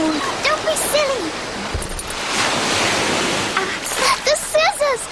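Water rushes loudly and continuously after a dam gate is opened in an animated fairy tale, a broad, steady roar with high squeaky voices and calls over it.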